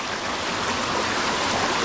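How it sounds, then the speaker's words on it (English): Buderim Falls waterfall pours with a dense, steady roar of rushing water heard up close, loud and unbroken. "into the waterfall, or into the water flow here."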